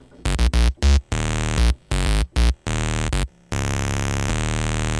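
An Access Virus KC synthesizer plays a bright, buzzy square wave with its sub oscillator mixed in, sounding in short choppy stabs and then longer sustained notes, loud and alone.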